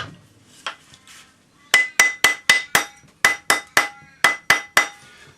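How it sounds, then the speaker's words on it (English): A rawhide hammer strikes a metal ring on a ring mandrel, rounding it up: a quick run of about a dozen close, sharp blows with short pauses between groups, a couple of softer taps leading in. "round it up on your ring mandrel with a rawhide hammer."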